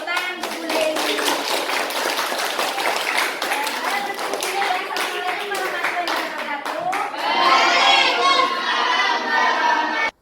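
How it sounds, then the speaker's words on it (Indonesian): Audience clapping for a presenter at a teachers' workshop on positive school culture, with dense overlapping hand claps sustained throughout and swelling louder near the end as voices and cheers rise over it. "kita beri tepuk tangan Bu Leli."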